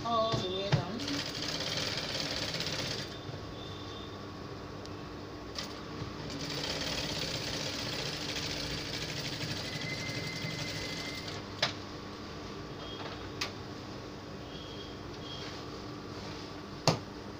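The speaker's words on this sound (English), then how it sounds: "So backstitch again and continue sewing" A sewing machine running steadily as it stitches a dress seam on a bubu butterfly dress with keyhole, a continuous mechanical whir with brief pauses and small clicks, fairly close.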